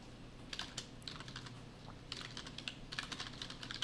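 Rapid clicking keystrokes on a computer keyboard, typed during a basic web-coding lesson on keyboard use and shortcuts. The keys come in quick uneven bursts with short pauses, close and moderately loud, with no talking.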